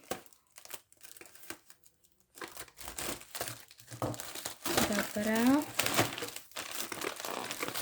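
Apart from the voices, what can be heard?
plastic foil packaging crinkling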